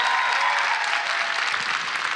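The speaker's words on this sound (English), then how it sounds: "Can I please get a round of applause for Kaiser Permanente?" Dense, loud audience applause at a civic event, continuous many-handed clapping that stays full and even from start to finish.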